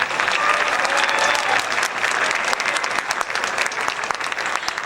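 An audience at a high school winter band concert bursts into steady, full applause, many hands clapping together at an even level throughout.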